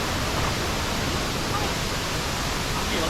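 Peessa Waterfall near Badulla, Sri Lanka, running with a strong flow, its water roaring as a loud, dense, steady rush that fills the whole stretch without a break.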